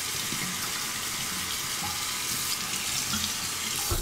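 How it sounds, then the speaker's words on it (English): Cold water runs steadily from a tap over the cap of an alum block, a continuous close splashing hiss with no pauses or voices. "remove the cap under the cold water"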